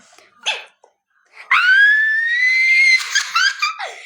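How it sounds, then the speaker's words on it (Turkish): A sustained high, wavering dog-like whine or howl, loud and close, preceded by a brief yelp and ending in a few choppy yips. "Köpek gibi ses var."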